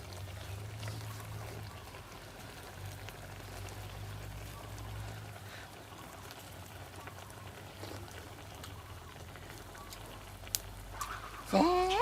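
Crab liquid poured into a cooking pot while making a rice-field crab om stew, a steady splashing, rushing pour that runs for the whole stretch at moderate level, ending with a short louder clatter.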